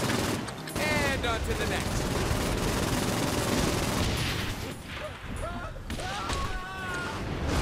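Sustained heavy gunfire from the video game Saints Row 4, dense rapid bursts and blasts running continuously and loud, with excited players talking over the shooting throughout.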